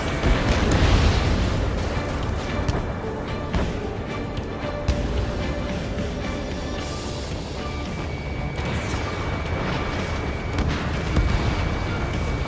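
Tank blowing up in Ace Combat 7 with a loud, rumbling explosion, followed by sustained roaring noise, crackling and a steady engine drone.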